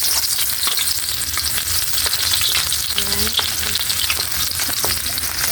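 Onion frying in hot cooking oil, a loud, continuous crackling sizzle with scattered pops and spatters, heard close and without speech.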